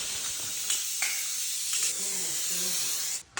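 Spray hisses onto both sides of a Trim Tex drywall bead for a feature ceiling, a steady close hiss punctuated by a few brief louder bursts, with faint handling sounds near the end.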